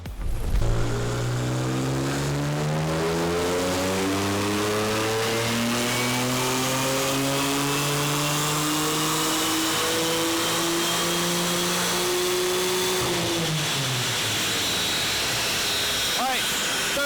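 A BMW F80 M3 engine on a dyno pulls hard through the revs, its loud, rising drone climbing steadily for about twelve seconds before dropping off; a voice speaks briefly.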